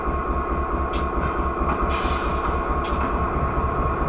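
Norfolk Southern diesel locomotives in a Train Simulator game, easing together at low speed to couple: steady loud rumble of idling engines and rolling stock with a few brief metallic clanks and hisses throughout.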